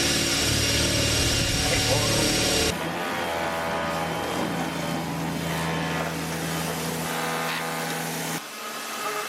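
A power drill whines steadily while working on a Volkswagen Scirocco, loud and continuous at first, then shifting to a lower, softer running pitch with a faint hum, close by and with no pause until near the end.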